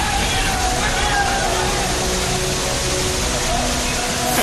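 Floodwater from heavy rain roars through a town's main market street in a loud, constant broadband rush, close and unbroken throughout.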